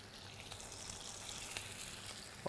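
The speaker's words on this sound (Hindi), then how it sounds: "कबाब जो हैं वो ऑयल में ऐड कर दिए फ्राई होने के लिए।" Kebabs fry in hot oil for a hareesa recipe, giving a steady soft sizzle that runs evenly at low volume, then briefly flares louder right at the end.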